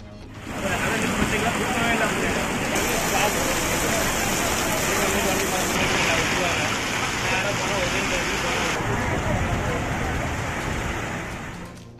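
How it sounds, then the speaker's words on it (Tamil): Rain falling steadily, a dense continuous hiss of drops on surfaces, loud and even throughout with no breaks. "சென்னை முதல் நெல்லை வரை பல்வேறு மாவட்டங்களில் பரவலாக மழை."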